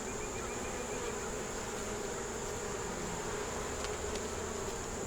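Honey bees swarming over an open hive with brood and larva, a dense continuous buzzing hum close by, steady throughout with no break.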